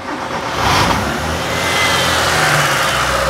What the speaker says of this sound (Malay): So bila kita start kereta ni kereta tak ada cas tau.